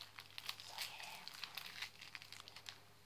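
Plastic packaging being cut open with scissors, a close, quiet series of crinkles and snips in short irregular bursts.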